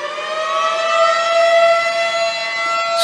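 A civil defense siren sounds in Coquille, Oregon as a steady, sustained wail heard from a distance outdoors, holding a constant pitch throughout.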